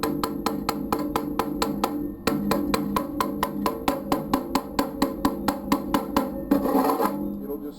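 A hammer chips slag off a stick-welded (SMAW) bead in a fast, even run of sharp metallic taps, roughly three per second and two dozen in all, struck close by with a brief scraping rattle near the end.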